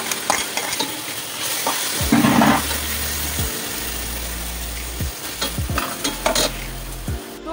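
Boiled chicken tossed into a hot pan with ginger-garlic paste for chicken fried rice: a loud sizzle with vigorous stirring scrapes and clattering bursts, some low rumbling, close up and without speech.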